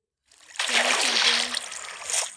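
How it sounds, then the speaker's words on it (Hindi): Water splashing and sloshing as it is poured in Minecraft, a short continuous burst of moderate loudness with no talk over it. "उससे पहले यहाँ पे पानी डालना पड़ेगा"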